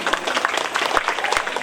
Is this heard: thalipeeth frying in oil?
no